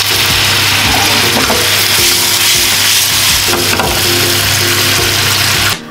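Chicken rolls with bacon, cheddar and sage sizzle loudly in a pan after a splash of white wine, a dense continuous frying hiss with occasional stirring clicks, close and steady until it cuts off at the end.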